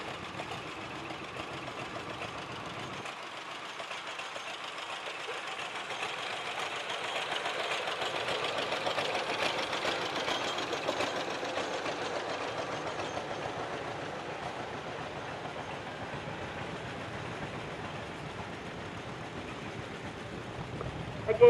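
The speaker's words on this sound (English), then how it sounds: "It's a 1949 John Deere B from Kennesaw." A restored 1949 John Deere B tractor from Kennesaw runs at an antique machinery parade, its engine a steady, even drone that swells slightly as it passes and then holds on.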